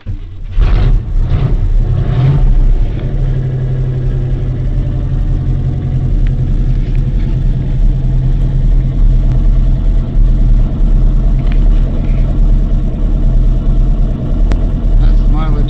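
Chevy 3/4 ton 4x4 pickup truck engine after a cold start, with a steady low idling rumble running continuously, loud and close, beneath occasional talking.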